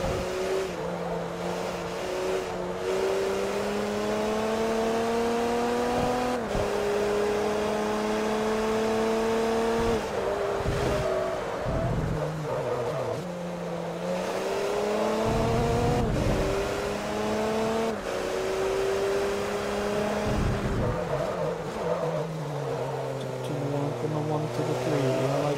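A VW Golf race car in the Forza Motorsport 3 video game, engine droning loud and close, rising through revs and dropping sharply at each gear change in repeated cycles, with brief tyre and impact noises between.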